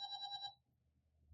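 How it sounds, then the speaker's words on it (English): A phone's text message notification chime rings out as a short melodic tone for about half a second, fairly faint, then fades into quiet room background. "That's just my notification that somebody sent me a text."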